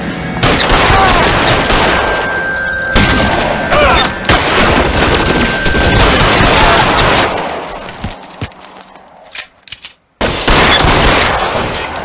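A loud shootout in L.A. Noire, with dense overlapping gunshots and rapid automatic fire, heavy booms and crashing debris, continuous and close, briefly thinning to scattered shots and near silence before the barrage resumes.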